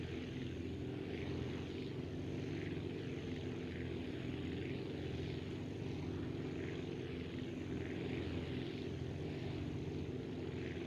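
Propeller aircraft engines drone steadily at high power during a takeoff run in Aviassembly, a continuous loud buzzing roar with no voices.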